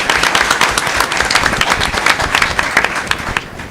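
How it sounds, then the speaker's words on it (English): An audience at a congressional roundtable in Manteno, Illinois applauds steadily with dense, loud clapping that holds for several seconds before easing off at the end. "So give him a round of applause"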